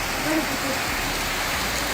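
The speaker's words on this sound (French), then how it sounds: "Et il pleut, mais un truc de ouf." Heavy rain pours outside a house during a power outage, a dense, steady hiss of water with no breaks, fairly loud and close.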